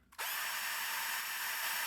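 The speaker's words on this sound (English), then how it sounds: "So I've got my battery powered drill and my smallest drill bit." A battery-powered drill with a small bit spins up abruptly and holds a loud, steady high whine while boring into a 1994 Chevy K1500 front suspension part, heard close and alone.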